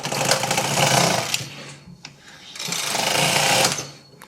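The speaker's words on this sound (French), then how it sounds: "Je vais peut-être en faire un autre pour qu'on voit bien le chariot." A domestic knitting machine with front and rear needle beds has its carriage pushed across twice, each pass a loud clattering whir lasting over a second, separated by a brief click and pause.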